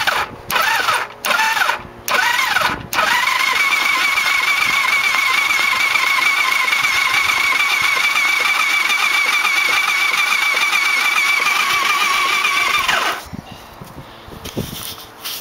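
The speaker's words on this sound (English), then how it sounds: "Turning over good." A 1989 Yamaha V-Max engine cranking over steadily on the starter, oil squirted into its cylinders, with a continuous even whirring drone for about twelve seconds after a few short bursts, then cutting off.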